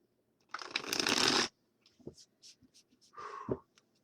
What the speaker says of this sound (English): I'm going to try to shuffle at least one time.